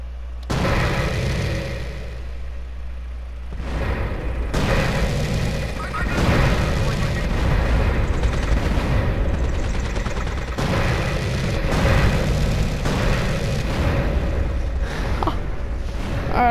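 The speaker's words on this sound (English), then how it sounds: "Oh, shooting down at helicopters is awesome." Gunfire and explosions from GTA San Andreas as a player shoots down helicopters, with loud repeated bursts in blocky segments and a continuous rumble between them.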